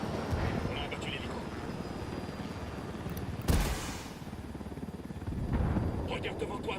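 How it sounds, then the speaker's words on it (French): Helicopter rotor rumble in the video game Ghost Recon Wildlands, loud and continuous, broken by a sharp blast midway, with voices talking in French over it. "On a abattu l'hélico."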